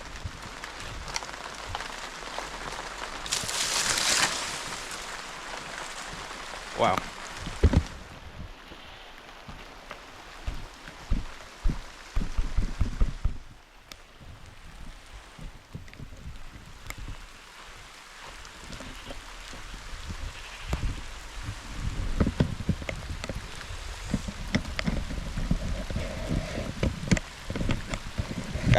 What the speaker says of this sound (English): I think it's much rain.